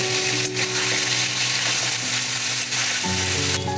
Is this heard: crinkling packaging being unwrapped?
no